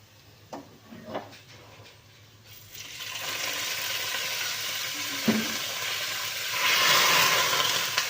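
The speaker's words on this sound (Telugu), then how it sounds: "తాలింపు వేసి వెంటనే మూత పెట్టేసుకుందాం." A hot tempering is poured into a pot of rasam: a few soft clicks, then a sudden loud sizzle that keeps hissing steadily and swells again toward the end.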